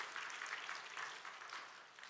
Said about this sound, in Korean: 이럴 때는 박수도 치는 거예요.